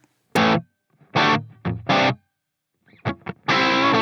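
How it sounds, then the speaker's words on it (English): Dry electric guitar through a Line 6 Helix with reverb switched off, using a Voltage Queen amp model: a few short distorted chord stabs and bursts that cut off abruptly into silence, with no tail. "If we just turn that off, we hear the dry signal again."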